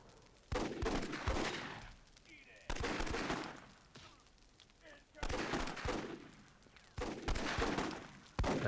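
Grenade blasts in the Myth II Soulblighter video game: four loud, booming explosions at roughly two-second intervals, each dying away before the next, with a voice talking faintly underneath.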